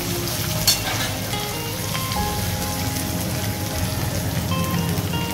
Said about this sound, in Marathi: यांना म्हणजे तेलामध्ये कडवूनच घ्यायचं आहे